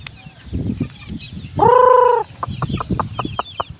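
Backyard chickens in a small coop, close and loud, with a burst of soft clucks, one drawn-out squawking call in the middle, and more scattered clucks after it.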